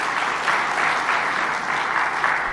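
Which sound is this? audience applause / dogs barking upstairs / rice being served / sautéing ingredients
audience applause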